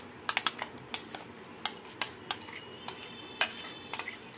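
A spoon knocks and scrapes in a pan while mango burfi mixture with mango pulp is stirred, giving irregular sharp clinks at close range over a faint background hiss.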